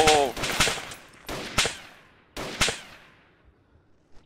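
A shooter video game produces loud bursts of machine gun fire, three or four rapid rattling volleys separated by short pauses, each with a fading echo.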